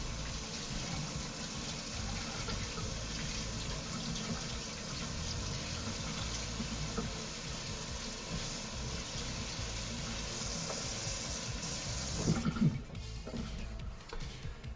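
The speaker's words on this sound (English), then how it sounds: "then I'm going to give this bowl a really good rinse" Tap water runs steadily over a bowl being rinsed at a kitchen sink during soup preparation, a continuous splashing gush that shifts and clatters briefly near the end.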